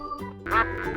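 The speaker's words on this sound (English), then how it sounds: "Duck" A farm duck gives a short, close, nasal quack lasting about a second, heard over light background music.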